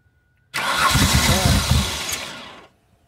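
A 1998 Ford Windstar that has sat for 14 years cranks for about two seconds. The starter whirs loud and close, with an uneven, skipping rhythm that hitches momentarily, then stops.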